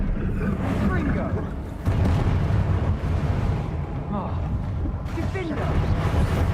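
A Confringo explosion spell goes off in a Harry Potter duelling video game, rumbling booms and bursts mixed with game effects, heard under a voice calling out spell names.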